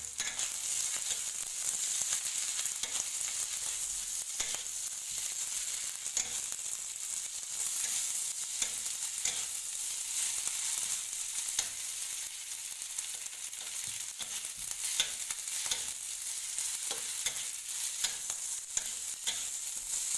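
Spicy-sweet fried rice frying in a pan with Bango sweet soy sauce, a bright continuous sizzle broken by scraping stirs, close and steady with no speech.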